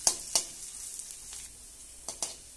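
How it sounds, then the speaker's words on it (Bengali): Halved garlic cloves fry in hot oil in a wok, a quiet steady sizzle broken by several sharp scraping stirs, the strokes near and distinct. "এবারে রসুনগুলোকেও কয়েক সেকেন্ডের জন্য নেড়ে চেড়ে নিয়ে ভেজে নেব।"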